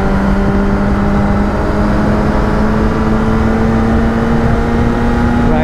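A Kawasaki Ninja ZX10R motorcycle on the move, its engine a loud steady drone with a tone that rises slowly as it accelerates, heard close with wind roar and no voices.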